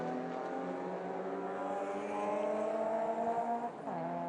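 A bright orange BMW 1M race car roars past at the Sandown circuit, its engine note steady and strong with rising harmonics, then a brief gear change near the end as it continues at speed.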